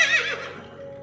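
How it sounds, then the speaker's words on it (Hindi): A horse gives a single loud, close whinny that falls in pitch and trails off within about a second, with nothing else heard. "अश्व अर्थात घोड़ा था।"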